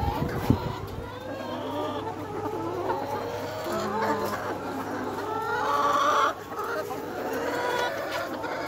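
Layer hens on a poultry farm cluck and chatter throughout, many birds close and overlapping in a busy, steady flock murmur, with occasional louder calls.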